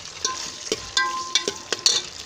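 Onions tossed into hot ghee in a pan for stuffed bitter gourd, with bursts of sizzling and stirring scrapes in short uneven strokes, close and fairly soft, with no voices.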